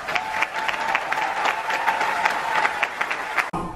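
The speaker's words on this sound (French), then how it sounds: "Sous vos applaudissements, s'il vous plaît, Monsieur Philippe Tagneux." An audience applauds at a public talk event in French-speaking Africa, steady dense clapping from a crowd that holds throughout and cuts off abruptly near the end.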